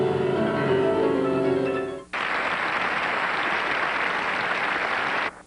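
At the 1988 Grammy Awards, a large audience rises in a standing ovation for a pianist. Steady, dense applause cuts in after a stretch of tonal music and carries on evenly before stopping abruptly.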